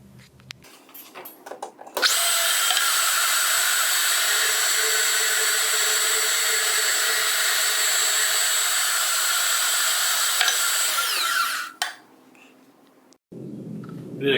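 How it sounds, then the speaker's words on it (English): A bandsaw cuts through a bronze knob blank, a loud steady whine holding for about ten seconds before it winds down and the blade runs free. "We're going to go ahead and finish it up on the bandsaw."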